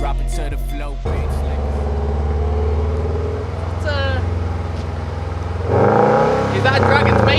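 A 2015 Subaru WRX STI with a Borla exhaust idles with a deep burbling note, then revs up sharply, the engine rumble steady and close before a louder rise near the end, with voices heard briefly.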